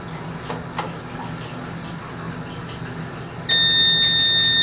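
A darkroom enlarger timer lets out a steady, high electronic tone that starts abruptly near the end and holds without a break. Before it there is only a faint room hiss.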